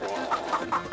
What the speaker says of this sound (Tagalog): nagkagulo nga ang mga manok